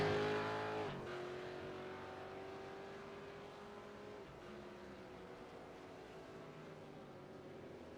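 A V8 race car engine drones in a racing video game at Le Mans, a steady harmonic whine that drops in pitch as another car passes, fairly quiet and continuous with no talk.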